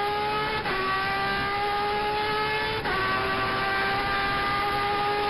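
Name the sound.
Turismo Carretera race car accelerating on track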